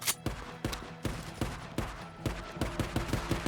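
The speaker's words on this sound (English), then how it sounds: "Wait, I have an MG." Machine gun fire in the video game Days Gone, a run of sharp, loud shots in short irregular bursts over about three and a half seconds, with no talking.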